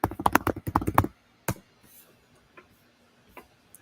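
Rapid keystrokes on a computer keyboard as a search query is typed, a dense burst of clicks for about a second followed by a single sharp tap and a few faint scattered clicks in a quiet room.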